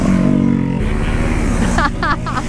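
Motorcycles racing flat out in a competitive event, their engines roaring loud and close throughout with steady harmonic drone, while people talk and shout over the noise.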